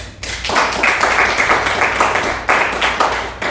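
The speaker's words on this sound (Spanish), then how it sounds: "Dele un aplauso a Dios" A church congregation at an Assemblies of God service claps together in a dense, loud burst, with rhythmic surges of hands striking throughout and faint voices mixed in.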